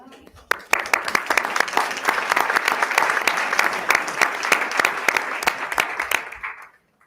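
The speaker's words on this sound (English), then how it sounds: "Pause for applause." Audience at a school board meeting applauds students being recognized with certificates, a steady wash of many hands clapping for several seconds that tapers off at the end.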